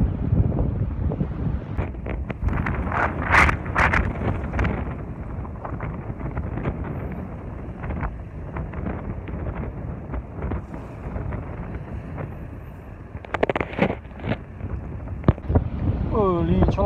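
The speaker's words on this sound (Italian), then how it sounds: "Piuttosto speriamo che si calmi sto benino di vento." Strong stormy wind at sea buffets a fishing boat and the microphone, with gusty roaring that rises and falls throughout and sharper knocks and splashes near the end.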